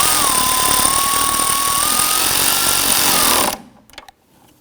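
A power tool tightens a nut on a Hyundai Elantra 2.0L transmission mount, a loud, continuous whirring buzz with a shifting whine that cuts off abruptly near the end, followed by a few faint clicks.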